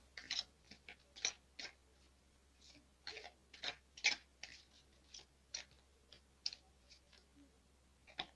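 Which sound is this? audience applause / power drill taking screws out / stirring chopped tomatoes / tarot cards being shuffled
tarot cards being shuffled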